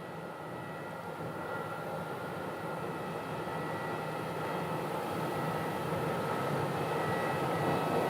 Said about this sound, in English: we've got a total of 3 aircraft in this alleyway right here that are they're trying to get out right now